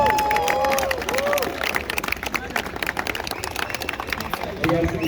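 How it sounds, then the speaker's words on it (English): Crowd clapping and cheering for volunteers at a Kenyan barista championship, lively uneven applause with whoops and chatter, tapering off midway before voices rise again near the end. "A big round of applause, guys, the volunteers."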